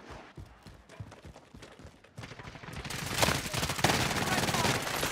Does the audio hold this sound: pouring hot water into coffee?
no